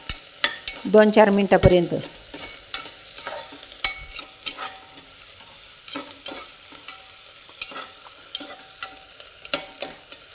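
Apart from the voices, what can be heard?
onion and green chilli sautéing in a pan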